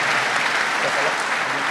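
A church audience claps in a short, dense burst of applause during a Portuguese-language sermon on marriage, filling the room steadily with no voice on top.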